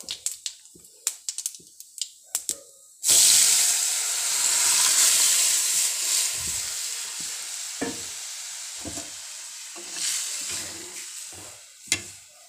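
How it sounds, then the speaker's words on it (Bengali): Whole cumin seeds drop into hot oil in a pan and burst into a loud, steady sizzle that fades slowly, with a few light clinks of a utensil before and during the frying. "ভাজা ভাজা হয়ে গেছে এখন আমি গোটা জিরা দিয়ে দিচ্ছি"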